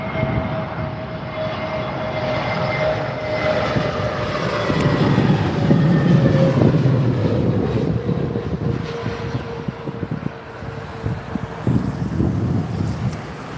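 A Scandinavian airliner arriving over runway 27R at London Heathrow, its steady engine roar and whine rising to a broad swell midway and fading slowly, with wind noise throughout.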